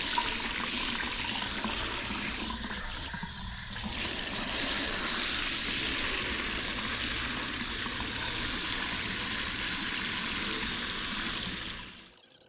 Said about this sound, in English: I'm gonna rinse them with water and see what we've got